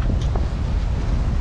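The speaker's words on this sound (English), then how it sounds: "Breeze has picked up to about 11, 12 now" Strong wind roars steadily across the microphone aboard a Beneteau First 40.7 sailing solo upwind off southern Door County, loud and buffeting throughout.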